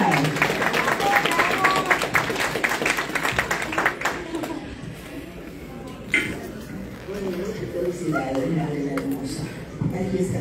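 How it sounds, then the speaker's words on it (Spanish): At a film premiere, a crowd applauds María Cadena with scattered, fairly close hand claps for the first few seconds, then the clapping fades as people begin talking and chatter fills the rest. "¡Fuerte el aplauso para María"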